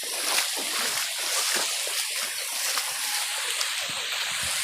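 Feet wade and splash steadily through knee-deep flood water during an evacuation, a continuous broadband sloshing with irregular splatters, fairly near, with no talk.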